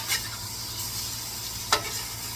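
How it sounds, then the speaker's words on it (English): Vegetables and chicken for hibachi sizzle on a flat top griddle, a steady close hiss with a couple of sharp brief crackles and scraping stirs, no talking. "I want y'all to hear this sizzling."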